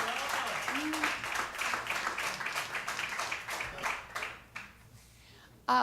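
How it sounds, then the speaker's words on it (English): A small jazz club audience claps for a performer, a lively burst of many hands applauding with a brief vocal sound early on, fading out toward the end before a sudden loud onset at the close. "Let's all clap for Michael, just for fun."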